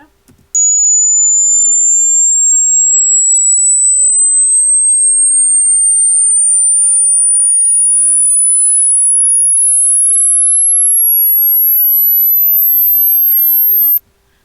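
A pure sine-wave test tone, loud and steady, sounds alone for about thirteen seconds, its high pitch climbing slowly and smoothly before cutting off abruptly.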